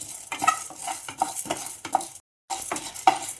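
Chana dal is stirred while it dry-roasts in a pan, giving repeated scraping and rattling strokes with small clicks. The strokes come in an uneven rhythm, with a short silent break partway through.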